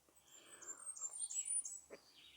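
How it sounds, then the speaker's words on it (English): Warbler singing in a park, a series of thin, high chirping phrases close to the listener, fairly faint and steady with soft background hum. "We have a lot of warblers here in the park, all different kinds."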